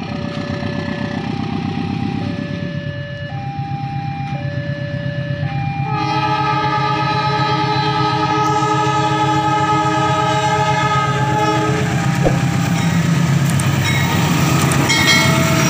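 A Kutojaya Selatan passenger train passes a closed level crossing near Tasikmalaya, its horn blaring in long loud tones. The driver's signal is followed by a rising rumble and clatter of wagons rolling by close up.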